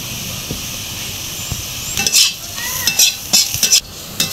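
Potato peels fry in a pan with oil, giving a steady close sizzle and hiss. Repeated scraping clinks of a utensil stirring them grow more frequent toward the end.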